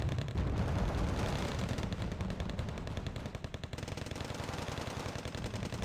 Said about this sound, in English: especially whilst they are under fire by the Canadian Rifles and these M113Gs with their Browning machine guns